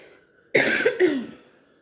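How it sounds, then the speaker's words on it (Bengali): A person with a cold gives two harsh, close coughs in quick succession, the second fading out after a short pause. "একটু খারাপ কাশি হয়েছে ঠান্ডা লেগেছে"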